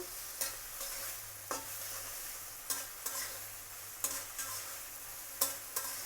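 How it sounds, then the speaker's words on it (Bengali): Potatoes for a small shrimp curry sautéed in a pan, soft steady frying hiss punctuated by regular sharp spoon scrapes against the metal, close but fairly quiet. "এই তো আমি আলুটা এইভাবে কষিয়ে নেবো"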